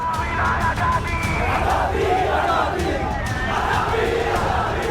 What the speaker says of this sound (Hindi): ये तस्वीरें ढाका की हैं, जहां उस्मान हादी की मौत के बाद गुस्साई भीड़ सड़कों पर उतर आई।